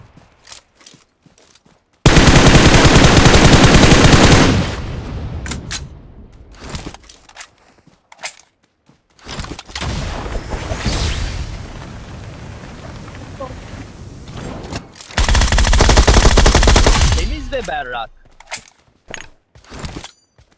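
Two loud bursts of rapid automatic gunfire in PUBG Mobile, each a few seconds long, separated by a stretch of quieter game noise and scattered clicks.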